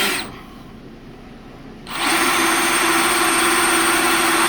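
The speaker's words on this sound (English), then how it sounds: "Trying out the new drill bits here." A power drill fitted with new bits bores into metal during custom truck fabrication on an LS-swapped Ford F100, starting after a quieter lead-in and then holding a loud, steady, high whine to the end.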